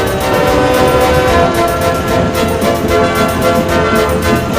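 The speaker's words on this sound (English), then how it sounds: "Steel train coming through." Cartoon steel train rumbling past at a steady, loud level, a dense continuous roar with faint horn-like tones and rhythmic rail clatter, no voices over it.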